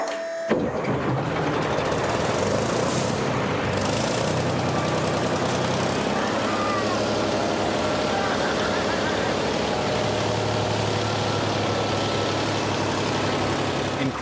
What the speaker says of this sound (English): Greg's mail order check engine has exploded to life on the second try